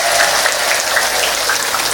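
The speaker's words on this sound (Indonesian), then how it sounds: "tepuk tangan sik" A crowd at an Indonesian religious gathering claps in a loud, continuous patter, close and even throughout, with no talking over it.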